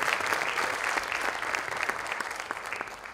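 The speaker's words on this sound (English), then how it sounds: "Give yourself a strong round of applause for being" Audience applause fills a speech event, a steady dense burst of many hands clapping close by for the whole stretch, with no talking over it.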